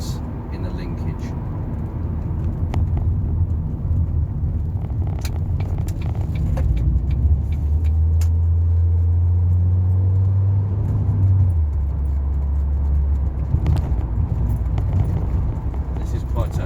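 A Ford Focus MK1 on a test drive over a challenging road fills its cabin with a steady low engine and road rumble, swelling in the middle. Someone talks over the noise.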